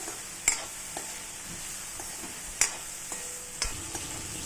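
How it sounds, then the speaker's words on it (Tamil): Okra frying in a pan until golden brown for a buttermilk curry, with a low steady sizzle and occasional sharp clinks of a spatula against the pan, close and fairly quiet. "நல்லா கோல்டன் ப்ரௌன் ஆயிட்டு வறுக்கணும்."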